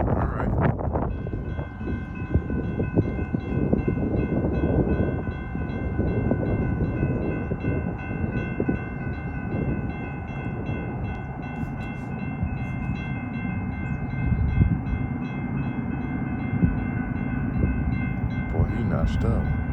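A BNSF double-stack freight train passes at 65 to 70 mph, making a loud, continuous roar of wheels and wagons close by. A sustained horn tone sounds through much of the pass.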